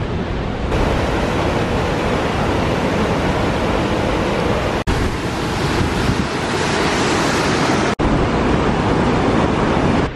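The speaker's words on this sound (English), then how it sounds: "We made it to the waterfall." A waterfall in a national park roars as a loud, unbroken wash of rushing water, steady throughout with a couple of brief dropouts and no talk.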